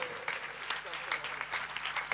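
Scattered, fairly faint clapping from an audience at a three-day Shri Ram Charit Manas fair with a Pandavani performance, uneven bursts of claps alongside a speaking voice.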